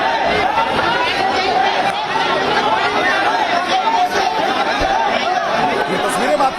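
A dense crowd gathered around Surya's house: constant overlapping chatter and murmuring from many people, with occasional chuckles, steady and close throughout.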